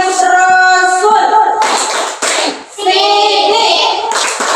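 A group in a classroom ice-breaker plays a clapping game about the Prophet's obligatory attributes: loud, rhythmic bursts of hand claps mixed with voices chanting together, close and continuous throughout.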